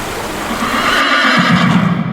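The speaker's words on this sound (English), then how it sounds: "Where the galloping of horses paints the landscape with a myriad of rhythms" Horses neigh and whinny with a faint hoof clip-clop underneath, a steady, fairly loud wash of sound throughout with no talk.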